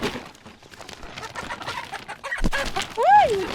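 Hens cluck on a chicken farm, with scattered short clucks and a louder rising-falling call near the end, heard up close over background rustling.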